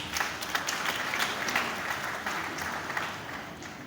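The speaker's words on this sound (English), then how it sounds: "Please give Lagos a clap." An audience applauds at a tourism masterplan unveiling in Lagos, with a steady wash of many hands clapping at moderate distance that continues evenly for a few seconds.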